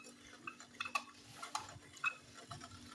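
An Ayurvedic shampoo mixture gently stirred in a pot on the heat, soft clinking and scraping strokes recurring about every half second, quiet and close.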